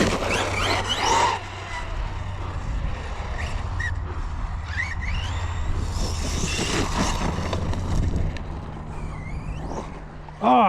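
Arrma Fireteam RC truck with a Spektrum 1250kv motor and stock ESC on a test run, giving a rising and falling electric motor whine with tire squeals and scuffs over outdoor wind noise, and a sharp thump at the end.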